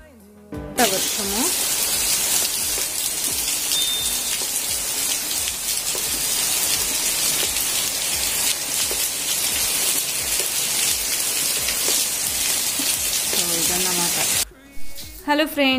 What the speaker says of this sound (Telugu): చూసారు కదా ఎంత టూ మచ్గా వర్షం వస్తుందో.